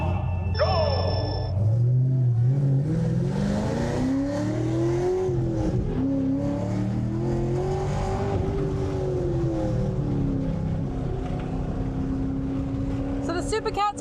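A Supercat and a Hennessey Camaro accelerate hard off the line on a race track, engines climbing through rising revs and gear changes, loud and close, with voices talking over the roar.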